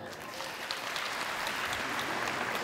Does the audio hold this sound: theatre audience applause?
yes